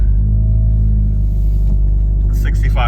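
A Chevy Cruze engine idles steadily on swapped-in LS ignition coils, a low constant rumble close by, with a brief higher whine and some clatter near the end.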